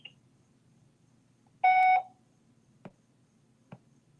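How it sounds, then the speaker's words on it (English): An answering machine gives a single short electronic beep, a clear steady tone lasting under half a second in a quiet room, followed by two faint soft clicks. "Please leave a message after the beep."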